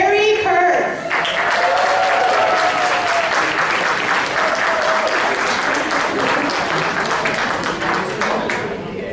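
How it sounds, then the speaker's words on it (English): A senior audience at Legacy Commons applauds to welcome comedian Perry Kurtz, loud sustained clapping that begins right after a voice on a speaker system and carries steadily to the end. "Please put your hands together and give a legacy welcome to Perry Kurtz."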